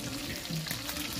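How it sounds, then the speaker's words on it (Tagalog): Small yellowfin tuna fish frying in a pan, a brief soft crackling sizzle heard close and fairly quiet. "Piniritong isda na Tuna yun, ano? oo, tuna pero yellowfin pa siya kasi maliliit."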